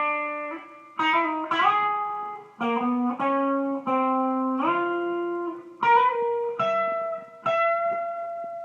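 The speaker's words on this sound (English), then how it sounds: "here is the rhythm channel set on a clean setting with the reverb" Clean electric guitar chords through a 6505 2x12 combo amp's rhythm channel ring out one after another, each sustaining with a soft reverb tail, played alone with no talking.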